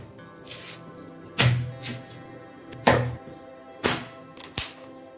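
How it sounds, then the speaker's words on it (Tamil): A tender coconut is chopped open with several sharp, heavy thunks at uneven intervals, close and loud, with quiet pauses between the blows and no talking. "இளநி வெட்டிக்கலாம்."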